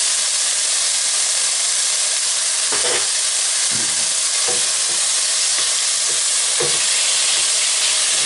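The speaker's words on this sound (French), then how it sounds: "On va ajouter l'oignon et le laurier." Onion and bay leaf fry in a pan with chicken for pasta, a loud continuous sizzling hiss broken by a few scraping stirs.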